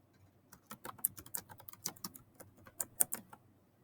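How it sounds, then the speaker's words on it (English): Fingers tap out a short burst of typing on a computer keyboard, a quick irregular run of close, crisp key clicks in a quiet room. "So I'm going to type that in."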